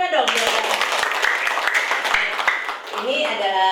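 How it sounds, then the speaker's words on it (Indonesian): Audience applause at a school principal performance assessment in Depok, a dense burst of clapping lasting several seconds under a speaking voice, fading briefly before resuming. "Tepuk tangannya mana dong?"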